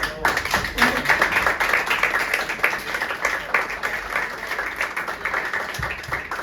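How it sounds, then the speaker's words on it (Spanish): Audience at a book presentation applauds: close, lively clapping with distinct individual hand claps, steady throughout with slight swells. "Y a Clemente y a Ruth vamos a darles un aplauso."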